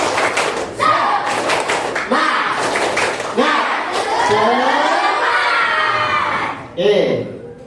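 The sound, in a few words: group doing the rhythmic 'tepuk semangat' clapping chant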